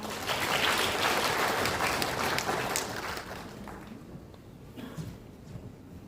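Broad crowd applause at a Korean lawmaker's constituency report event, loud at first and then tapering off into scattered claps toward the end.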